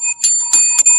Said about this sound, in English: Break that bell, Victor.